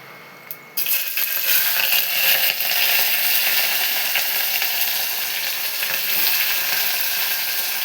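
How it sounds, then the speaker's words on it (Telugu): Green chillies, onions and curry leaves go into hot oil for a mutton curry and burst into a loud, close sizzle after a brief quiet moment, then keep up a steady crackling fry to the end. "పచ్చిమిర్చి, ఉల్లిపాయలు వేసుకోవాలి."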